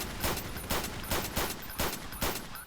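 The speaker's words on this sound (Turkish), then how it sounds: "Oğlum adama sıkıyorlar." Rapid, continuous video game gunfire in Roblox, with steady bursts repeating every half second or so over a dense, noisy background; fairly loud and with no talking.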